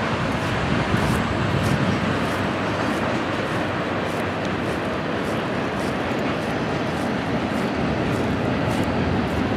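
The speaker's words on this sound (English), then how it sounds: "And here comes the train, see?" A train rumbles past a waterfront park, a loud, continuous roar with rhythmic clattering that holds steady throughout.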